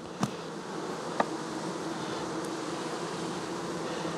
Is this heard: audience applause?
no